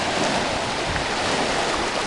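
Sea waves washing on a beach at sunset, a steady broadband rush of surf close by with no breaks, no voices heard.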